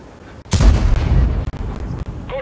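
Loud tank cannon shot in World of Tanks with a sharp boom and a rumbling, decaying tail, followed by softer mechanical and ambient game sounds.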